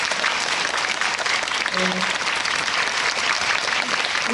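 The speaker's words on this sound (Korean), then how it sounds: "박수 한번 부탁드립니다" An audience at a cinema talk event in a movie theater applauds loudly and continuously, a thick wash of clapping, with a brief voice heard amid it.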